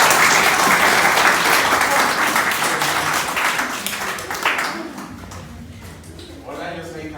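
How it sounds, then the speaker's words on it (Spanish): Applause from an audience at a staged representation of the twelve apostles, dense and loud at first, then thinning and fading toward the end as a voice begins speaking. "Un aplauso, por favor"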